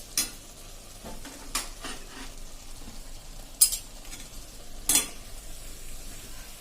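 A spoon scrapes and stirs undhiyu masala, garam masala, paste, papdi and tuvar beans in a pan for Surti green undhiyu, making a soft steady sizzle with a few louder scraping strokes, close by and without talk.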